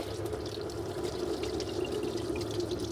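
Coolant drains steadily from a 2002 Chevy Suburban with a 5.3L engine into a container, a continuous soft trickling pour heard faintly and alone, without pauses.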